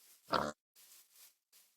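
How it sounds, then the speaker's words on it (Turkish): Pigs in the Minecraft Tekkit video game give a short, loud oink followed by a few quieter grunts, spaced out with brief silences in between. "Bir sürü domuz var."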